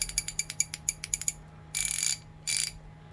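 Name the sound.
Armstrong twin pawl round head ratchet clicking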